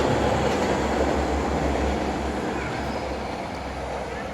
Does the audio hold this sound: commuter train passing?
yes